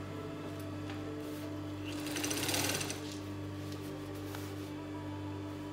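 A sewing machine stitches the side seam of trousers with a half-inch seam allowance, giving a steady, close mechanical whirr over a low motor hum that speeds up briefly in the middle.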